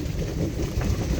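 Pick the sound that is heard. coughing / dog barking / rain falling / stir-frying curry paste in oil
rain falling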